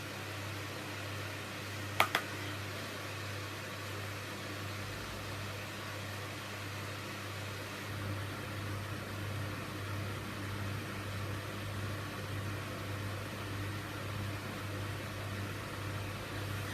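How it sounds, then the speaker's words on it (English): A small electric fan whirs indoors with a faint, steady low hum and soft airy hiss that holds unchanged throughout, broken only by a brief click near the start. "Sorry about the fan noise."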